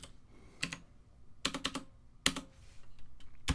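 Typing on a computer keyboard, short bursts of crisp close key clicks with pauses between, no talking.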